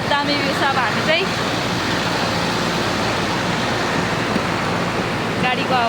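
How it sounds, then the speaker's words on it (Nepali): Mailung waterfall in Nepal roars as a constant broadband rush of falling water, loud and steady throughout, with faint voices in the background. "यो मैलुङ झरना घुम्न आएको छौँ"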